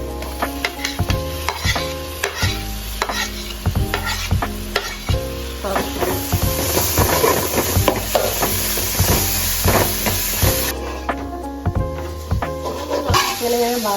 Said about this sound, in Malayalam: ഇങ്ങനെ വഴറ്റി അതിൻ്റെ പച്ചമണം പോകുന്ന വരെ നമുക്ക് ഇങ്ങനെ വഴറ്റിക്കൊണ്ടിരിക്കണം